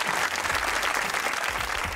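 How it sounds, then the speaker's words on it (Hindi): A studio audience claps warmly on a comedy talk show, a short burst of dense, even applause from a crowded room. "तालियां।"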